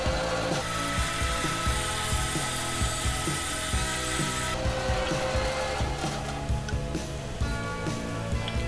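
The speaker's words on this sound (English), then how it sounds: "So let's cut off the end that we don't need. The old bandsaw." An old bandsaw slices off the end of a steel stud, giving a steady, close mechanical whine with a ringing metallic edge. It runs continuously for about nine seconds, with no talking.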